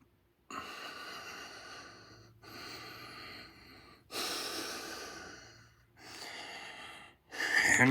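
Deep breathing in a yoga plank pose, slow, close breaths in a series of long inhales and exhales separated by short pauses, ending in a louder breath.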